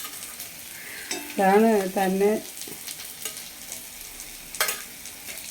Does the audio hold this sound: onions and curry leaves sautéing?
yes